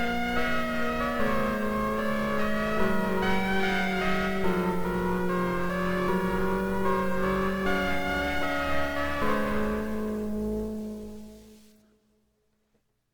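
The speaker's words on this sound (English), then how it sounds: "we're making an old style VHS sound and reminiscent of retro, lo-fi" A warm, wobbly synth plays sustained chords with a slightly warped, VHS tape-like lo-fi character, then fades out to silence near the end.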